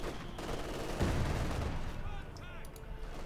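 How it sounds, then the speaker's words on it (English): A mortar fires in the World War II strategy game Company of Heroes 2: a sharp thump at the start of the clip, then rumbling battle noise and faint whistling. Soft talk runs underneath. "A mortar firing with them very, very close eventually to their line though, very close"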